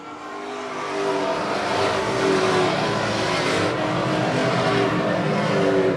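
Super Street class race cars run laps on a track, a continuous loud engine roar that swells slightly as cars pass, a dense and steady drone with no clear gaps.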